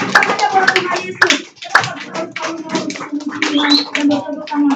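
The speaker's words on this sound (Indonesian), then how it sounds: "saya mau lihat dan dengar tepuk tangannya buat Tuhan Yesus" Congregation clapping hands for Jesus during a Sunday worship service at a church, a dense, lively burst of applause with voices mixed through it.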